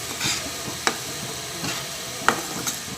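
Tomatoes with dried red chillies and garlic sautéing in hot oil for a pudina chutney, a soft steady sizzle broken by a few sharp scrapes and clinks of a spoon stirring the pan, no voices.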